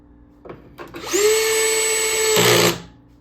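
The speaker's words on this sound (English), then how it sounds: "if you're using a power drill, make sure you put it at its lowest torque setting" A power drill set to its lowest torque whirs steadily for about a second and a half, driving a screw into the wood panels of a four-player upright arcade cabinet, with a few faint knocks before it starts.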